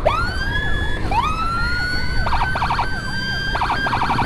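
Wailing ambulance siren during a police escort on Indonesian roads, rising and falling in long sweeps with bursts of rapid yelp, loud and close throughout over steady traffic rumble.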